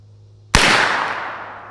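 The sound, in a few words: unsuppressed ZF5 rifle shots, 115 grain Monarch ammunition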